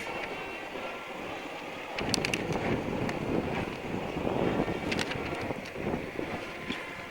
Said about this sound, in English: Wind is always a factor at parades, so it's blowing our papers all over the place as usual.